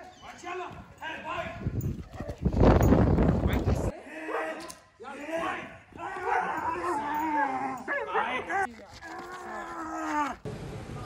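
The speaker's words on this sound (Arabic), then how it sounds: "خدتوا بالكم من الكلب" German shepherd protection dog at a crowded training event, loud and close, barking, yipping and whimpering in repeated bursts with a few brief pauses.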